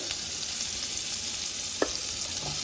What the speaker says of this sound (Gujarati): હવે આપણે બધા વેજીટેબલ્સ નાખી દઈશું